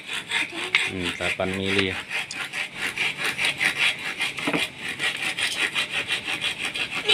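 Saw cutting through 8 mm plywood for a homemade electronic drum kit, a steady rasping back-and-forth of strokes throughout, with a brief voice near the start.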